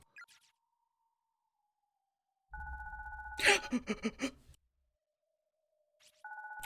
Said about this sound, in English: Cell phone? Isn't that Naomi's cell phone?